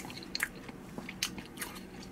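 Someone eats store-bought fried chicken gizzards, chewy inside with a crisp coating and served cooled. The bites and chews are faint and close, with a few soft crunches spaced irregularly over quiet background.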